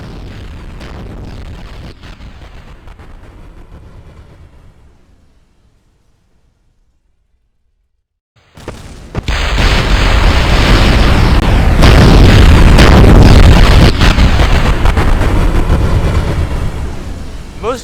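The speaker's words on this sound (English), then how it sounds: "Most of my designs are prone to sometimes spontaneously combust and explode on the launch pad" Game rocket blowing up on the launch pad in Kerbal Space Program: a low rumbling roar fades to near silence, then a sudden loud blast swells into a long, heavy, sustained roar.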